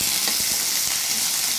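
Potato sabji with tomato frying in a pan while being stirred, a loud, close, continuous sizzle with soft spoon scrapes.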